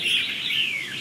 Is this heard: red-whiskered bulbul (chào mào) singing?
yes